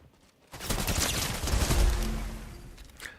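A dense burst of rapid gunfire in Fortnite, a thick roar of overlapping shots lasting about two and a half seconds, loud and close, with a low rumble underneath.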